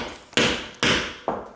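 Hammering indoors at home, three sharp close knocks spaced about half a second apart, each ringing briefly before fading, with no talking.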